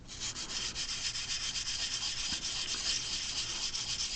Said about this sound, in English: you can switch over to your medium grit sandpaper